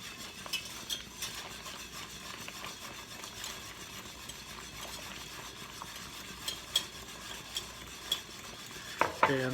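Whisking a flour slurry into pot roast gravy in a pot, a steady soft stirring scrape with light clinks of the whisk against the pot, moderately faint and alone.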